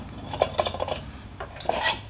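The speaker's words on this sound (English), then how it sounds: "you put your 3mm Allen wrench right here in the top, and then rotate it" A 3mm Allen wrench turns in the cover of an Olympus IX71 microscope lamp house. It makes short, close metallic scrapes and rasping clicks in a few uneven bursts.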